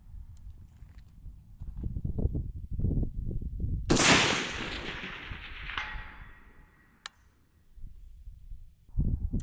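A Palmetto State Armory M110 rifle fires one loud shot at long range, its sharp report decaying in a long rolling echo, with rustling and shuffling movement before and after and a faint distant impact.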